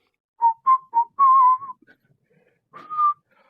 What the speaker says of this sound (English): So like whistling.